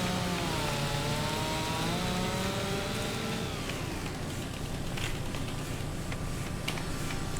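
A chainsaw cuts logs in the Farming Simulator 25 video game, a loud continuous engine whine that holds steady, then drops in pitch midway as it bites into the wood, alone without talk.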